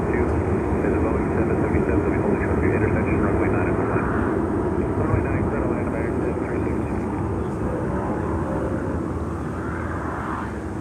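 Steady, loud engine roar from aircraft at Miami airport, a continuous broad jet rumble that holds through the whole stretch and fades slightly toward the end; no one speaks.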